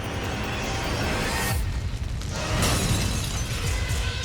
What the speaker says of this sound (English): What I suspect happened was something called a backdraft explosion.